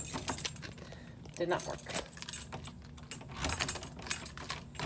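A bunch of keys jangles and clinks repeatedly as they are tried one after another in a lock in a high school science classroom, close up, with someone speaking briefly between the rattles.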